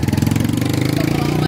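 A vehicle engine roars steadily and close for a moment as it passes, then cuts off abruptly.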